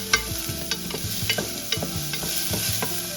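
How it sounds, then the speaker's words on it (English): Onions being mixed on a Blackstone griddle: repeated scraping clacks of a spatula over a bed of sizzling, close and rhythmic, with no voices. "And add our onions, and then just give them a little mix."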